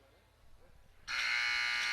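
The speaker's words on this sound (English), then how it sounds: "As there's the buzzer." A loud electronic buzzer sounds at a high school women's varsity basketball game in a gym, starting abruptly after a quiet moment and holding a steady harsh tone.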